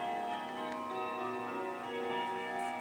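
A clock ticking steadily and chiming at eleven o'clock, with layered sustained bell tones ringing over a soft, even tick, fairly close and without talk.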